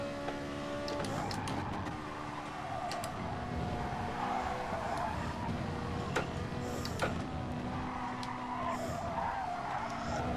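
Tires squeal in a long, steady skid from understeer in an F1 racing video game on the Austria circuit, with the car's engine droning underneath at close, constant loudness.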